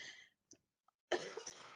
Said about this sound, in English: I got COVID, so I may be coughing every now and then